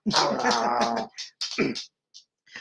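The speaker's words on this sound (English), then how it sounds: "My dog is, she's excited" An excited pet dog whimpering and whining in high, wavering cries close by, a few short bursts separated by brief pauses.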